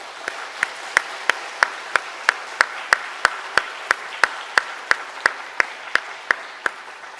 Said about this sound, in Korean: 하나님께 감사의 박수 한번 올려드립시다